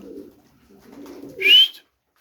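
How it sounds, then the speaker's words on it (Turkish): Kuwait misk and Miro pigeons give one short, fairly loud coo near the end, with softer low murmuring from the birds before it in a quiet room. "Bakın burada toplamda 6 tane Kuveyt miskisi ve Miro var."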